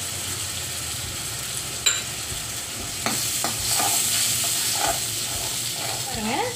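Prawn varuval masala with lemon water sizzles and bubbles steadily in a pan, with a broad hiss and several scraping stirs and clinks of a spoon.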